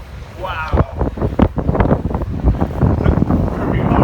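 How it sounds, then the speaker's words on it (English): Strong wind buffets the microphone on a hilltop after a steep climb, a loud continuous roar with gusty swells throughout. "Now it's very windy."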